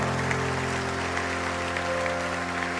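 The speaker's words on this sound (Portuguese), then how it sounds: "Você pode aplaudir ao Senhor," A church congregation claps in a dense, continuous wash of applause that holds steady and fills the room, with an organ or keyboard drone sustained underneath.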